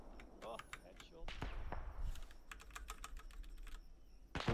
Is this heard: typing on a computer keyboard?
yes